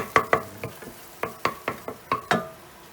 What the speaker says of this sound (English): So we're now going to put in the mince.